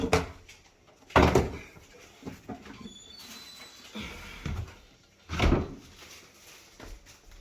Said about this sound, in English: then the actual front panel will actually slide off